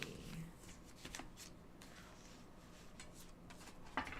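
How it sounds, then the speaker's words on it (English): Soft riffling and flicking of tarot cards being shuffled, quiet and close, with a few light taps. "I'm just going to shuffle these cards back."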